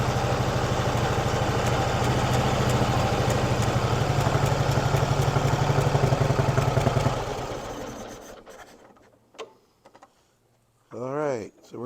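An antique Harley-Davidson engine idles with a steady, rapid thudding, runs for about seven seconds, then shuts off. Quiet clatter and a voice follow.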